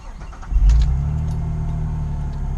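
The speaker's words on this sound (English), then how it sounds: "So here's a warm start, and I'm going to show you the RPM gauge so you can see the idle bounce" A Nissan Xterra VG33 V6 fitted with Schneider Racing cams, warm, cranks briefly and catches, settling into a steady, low, loud idle with a slight rumble and no talking.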